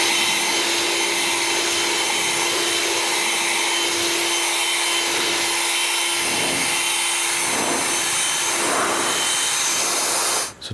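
A blower drying a Volkswagen Golf GT3 RS after a wash gives a loud, steady air roar with a constant whine through it, running unbroken for about ten seconds before cutting off at the end.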